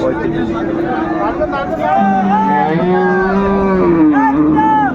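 A dairy cow at the Raniganj village cattle market gives drawn-out, wavering moos close by, amid a crowd's busy chatter and people talking.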